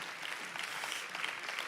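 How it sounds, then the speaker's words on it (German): Steady applause from a church congregation, a dense wash of clapping heard at a distance, fairly faint and continuous. "Lass uns diesem Team einen Applaus geben."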